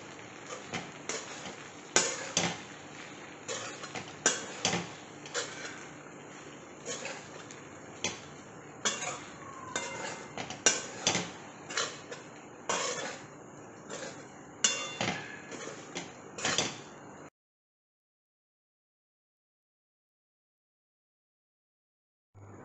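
Poha mixed with curd in a bowl, a series of irregular spoon taps and clinks against the bowl with soft squishing, close and alone, ending in silence.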